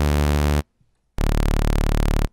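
Raw sawtooth wave from the Ableton Operator FM synthesizer, set up for a growl bass: two loud, buzzy sustained bass notes separated by a brief silence, harsh and bright.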